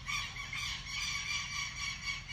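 Birds squawk and squeal continuously in a noisy chorus near a workshop where a 1984 Chevrolet Monza is being restored, with a steady low rumble underneath and no talking.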